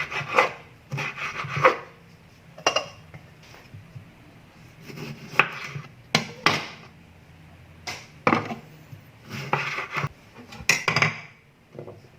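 A knife slices tomatoes on a cutting board, giving short scraping cuts and taps that come in irregular clusters separated by quiet pauses, close and fairly crisp, with no talking.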